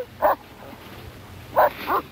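A dog barks three times at a moderate distance, two short separated woofs followed by a third, with quiet room tone in between and no talking.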